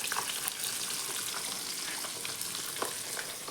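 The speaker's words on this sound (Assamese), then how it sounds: "মাছ ফ্ৰাই কৰিছোঁ" Fish sizzling steadily in hot oil in a pan, a dense continuous fry with small pops and crackles throughout, close and fairly loud, no talking.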